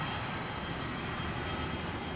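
A Philippine Airlines Boeing 747's engines produce a steady, even roar, with no voices over it, as heard from inside the aircraft.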